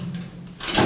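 A lift control panel door unlocked with a universal master key and swung open, a short latch click and then a louder creak or scrape of the metal door near the end, close and brief.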